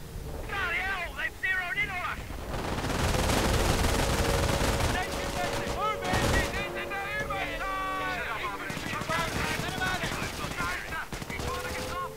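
Machine-gun fire in the Company of Heroes strategy game, with dense bursts of gunfire that build to a sustained rattle and then ease off, mixed with game sound effects and voices talking throughout.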